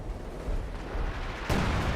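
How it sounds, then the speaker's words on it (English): Scavenger artillery barrage in the Company of Heroes 2 video game, a low rumbling roar that swells and then hits with a heavier impact near the end. "We now got the Scavenger artillery barrage right around here."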